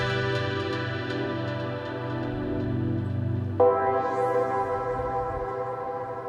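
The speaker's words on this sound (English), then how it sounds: "I've got a reverb called Plateau" Modular synth tones wash through a huge, cinematic Plateau reverb, a sustained chord swelling into a shimmering, bright new layer midway that lingers with a long diffuse tail.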